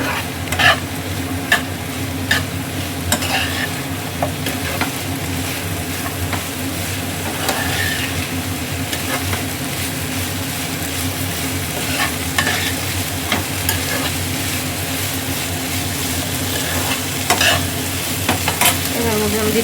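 Potatoes for a crispy chilli potato snack are stirred and tossed in a hot pan, with repeated scraping strokes over a steady sizzle of frying, close and fairly loud, and no talking.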